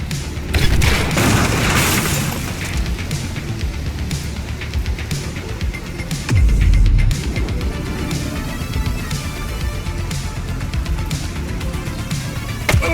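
A suspect's gunfire in the police video game The Precinct: loud booming shots and bursts over a dense, continuous game soundscape, with heavy low thumps near the start and again around the middle.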